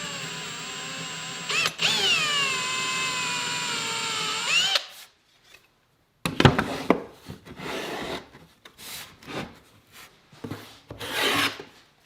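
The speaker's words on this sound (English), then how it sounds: "I'll need to drill a 1/4 inch hole" A power drill whines steadily for a few seconds as it bores a 1/4-inch hole into wood, then stops, followed by scraping and rustling handling sounds.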